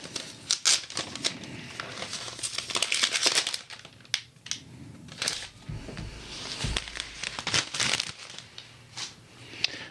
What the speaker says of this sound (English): let's take the protective paper off.